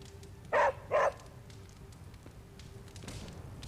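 In the video game Marvel's Midnight Suns, a dog gives two quick, clear barks close together over a quiet background hum.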